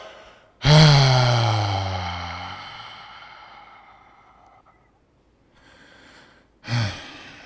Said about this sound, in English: After having released that beautiful, long, deep exhale, collapsing the lungs completely